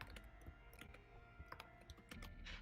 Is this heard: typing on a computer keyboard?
yes